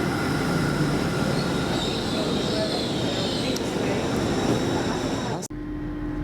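An LNER Azuma train departs York station, heard from inside as a continuous rumble of wheels and rail noise with faint squeals, then a sudden thud near the end.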